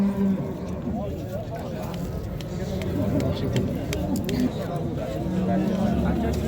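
A cow moos at a busy livestock market, its low drawn-out calls rising over a steady crowd murmur and nearby voices, with pigeons cooing faintly in the background.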